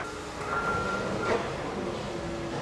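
A CSX freight train hauling Tropicana juice cars in 1997 rolls past with a steady broadband rumble and rail noise, plus faint squealing tones.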